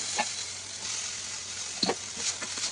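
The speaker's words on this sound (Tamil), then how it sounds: "பாஸ்தாவை ஆட் பண்ணி நல்லா மிக்ஸ் பண்ணி விட்டுக்கோங்க." Boiled pasta is tossed and mixed in a pan, a gentle sizzle underneath a couple of brief scraping stirs, close and moderately quiet over less than three seconds, with no voice.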